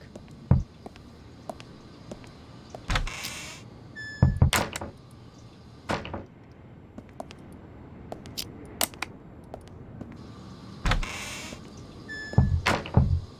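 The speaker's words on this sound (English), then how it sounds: "Who's that knocking?" Sharp knocks and thumps on a door in the horror video game Unheard, scattered single hits and short bursts spaced across a quiet, hissy background with no speech.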